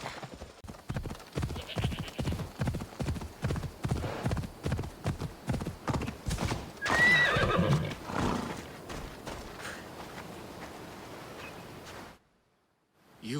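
Horse in Assassin's Creed Odyssey galloping with a steady, close clip-clop of hooves, then a loud whinny in the middle, the hoofbeats continuing until a short silence near the end.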